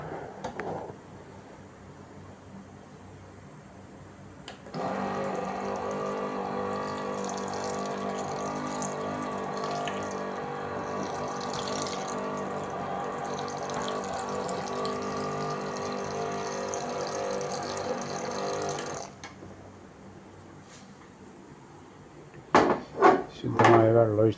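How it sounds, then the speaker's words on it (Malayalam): Clean water pours into a cooking pot in a steady, loud rush lasting about fourteen seconds before stopping, followed by a few sharp clatters of the pot or utensils. "നല്ല ശുദ്ധമായ വെള്ളം ഒഴിക്കണം"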